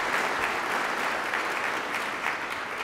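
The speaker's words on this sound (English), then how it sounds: "they deserve a round of applause." Steady, dense applause fills the hall at a NASCAR championship celebration, a continuous wash of clapping from a large crowd with no pauses, sustained and fairly loud throughout.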